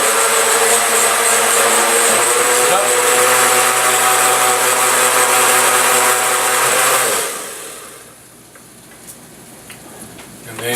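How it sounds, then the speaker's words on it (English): A kitchen grinder whirs loudly and continuously as it blends borscht ingredients, then cuts off, leaving quiet handling noises afterward. "grinder"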